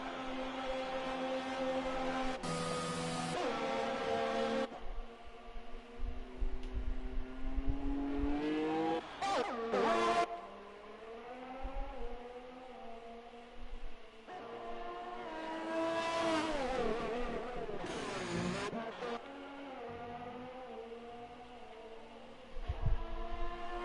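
Race cars in a racing video game at Bahrain pulling into the pits, engines droning and revving with shifting pitch, several passes and downshifts overlapping, moderately loud with no talk.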